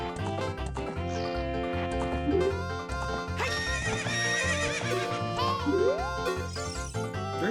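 A horse whinnies over steady game music in The Legend of Zelda: Ocarina of Time, with clip-clopping hooves and a few bright chimes scattered through.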